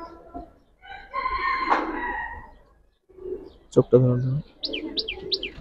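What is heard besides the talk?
Giribaj and colored pigeons cooing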